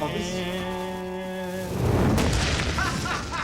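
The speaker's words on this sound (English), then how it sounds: "That was the best explosion we've ever done." A barrel packed with explosives blows up at the end of a burning vapor trail, a loud booming blast with a broad rumbling roar that follows a steady tonal hum and then lingers as crackling debris.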